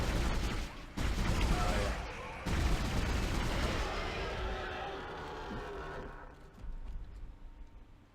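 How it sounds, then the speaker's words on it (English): Bursts of rapid gunfire and loud chaotic noise from Dead Space, with abrupt cuts and screaming, fading to quieter rumble near the end. "Lots of screaming and gunshots."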